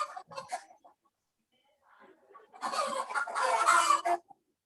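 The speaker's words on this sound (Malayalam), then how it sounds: "ആ പൂവൻ കോഴിയാണ് കൊക്കരക്കോ വെച്ചോണ്ടിരിക്കുക" A rooster clucks in a few short, soft calls, then crows in a louder drawn-out burst lasting about a second and a half, moderately close and heard over a quiet background.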